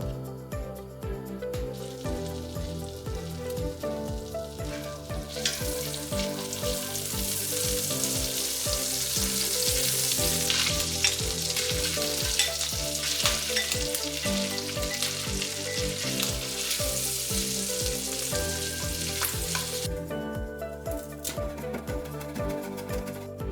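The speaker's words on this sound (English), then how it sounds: "we're going to saute these for 3 to 4 minutes until they turn pink" Shrimp sautéing in butter with minced garlic give off a dense, continuous sizzle and crackle that swells over the middle and eases near the end. Steady musical tones run underneath throughout, with no talking.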